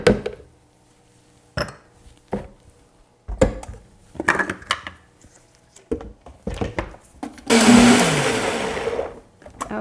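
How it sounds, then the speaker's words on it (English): A blender whirs through cashews for an Alfredo sauce, preceded by several knocks and clunks of scraping and handling the jar, then a loud steady motor roar rising near the end, close by. "I'm going to just try to scrape it down the side and blend it just a few more minutes more"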